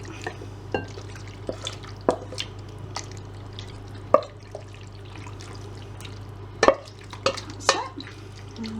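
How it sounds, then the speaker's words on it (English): Pasta tipped from a heavy pan into a bowl, heard as scattered wet drips, sloppy slides and a few sharp clatters against the bowl over a low steady hum. "I'm going to use this bowl and just put all my pasta in"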